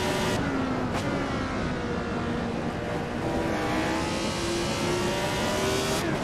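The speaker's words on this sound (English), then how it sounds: "super fun to downshift this car" Lotus 72 race car in the racing game Assetto Corsa, its high-revving engine note held loud and steady with pitch falling and climbing through downshifts, no talk over it.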